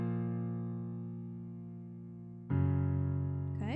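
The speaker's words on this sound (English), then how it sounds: "I'm playing the bottom note of the chord and the top note, also called the root and the fifth" Two piano notes, the root and fifth of a chord, struck together and left to ring as a sustained, decaying harmonic tone, then struck again near the end as a fresh, louder attack.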